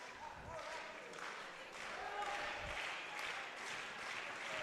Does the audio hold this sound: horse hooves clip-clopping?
no